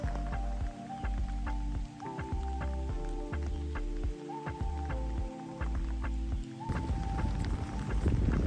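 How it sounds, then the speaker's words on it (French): Rain pattering steadily on surfaces outdoors during a weekend hike in Gaspésie, Québec, a dense close patter with irregular drips, continuous and moderately loud throughout with no talk. "Il pleut"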